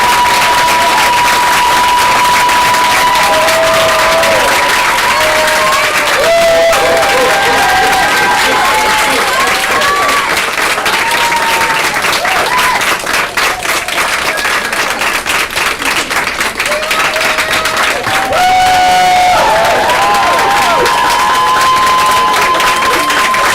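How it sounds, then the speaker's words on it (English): A film festival audience in a cinema bursts into loud, sustained clapping and cheering, with whoops and shouted voices rising over the dense applause, which swells and continues for a long stretch. "Can we all clap for her right now?"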